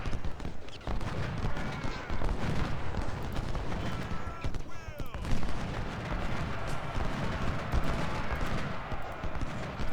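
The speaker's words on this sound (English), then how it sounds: "Start hitting him with the artillery now." In Ultimate General: Civil War, a Union river battle rumbles with artillery and musket volleys: a dense, ongoing crackle of shots and booms at moderate distance, with a voice talking over it.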